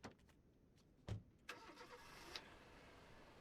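A truck engine starts in the video game Foxhole, a sharp crank and catch followed by a low idle rumble that steadies after a few quiet clicks, with no talking.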